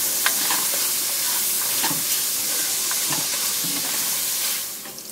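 Pork browns in hot cooking oil for Filipino pancit palabok, a steady close sizzle and hiss with occasional stirring scrapes throughout, no talk.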